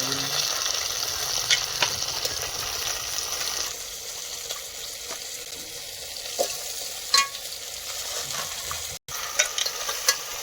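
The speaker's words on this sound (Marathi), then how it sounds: "लसूण आणि कांद्याची फोडणी दिल्यावर आपण खेकडे टाकणार आहोत" Steady sizzling of crabs frying in a pan with an onion and garlic tempering, with occasional stirring clinks and scrapes over a constant hiss.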